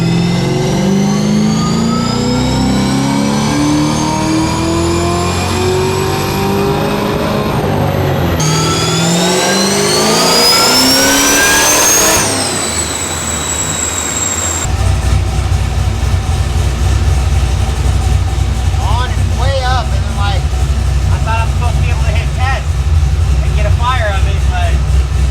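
A 1967 Camaro with a Magnuson-supercharged LSA engine on a Holley Terminator tune revs hard through rising, loud acceleration pulls, then drives on amid steady road noise while people talk.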